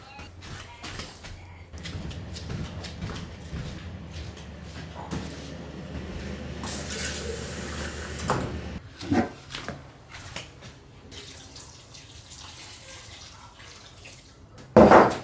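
Water runs from a household tap for several seconds as a houseplant is watered, a soft steady flow heard close, with light handling noises and faint talk.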